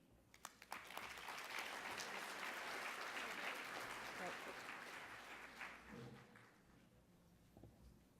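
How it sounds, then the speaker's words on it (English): Conference audience breaks into applause after a talk: a few scattered early claps swell into sustained, dense clapping for several seconds, then thin out and taper off, with some faint voices near the end. "Another round of applause for Louise and the farmers."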